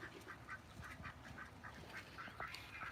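Several ducks quack repeatedly in a soft, steady chatter of short nasal calls, moderately near, with no voices over them.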